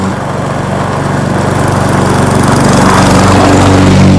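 A lawn mower cutting a yard along a fence line, its engine droning loudly and steadily right up close, building slightly in intensity, with no talking over it.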